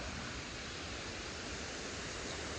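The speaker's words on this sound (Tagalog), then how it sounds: "So take a look guys, ito po ang ilog sa tabi ng bahay ko." River flowing beside a dam near a house, heard as a soft, even rush of water that holds steady throughout the short stretch with no talking.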